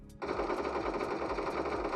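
Rapid automatic gunfire in a video game rattles in a steady, fast stream of shots after a brief pause at the start.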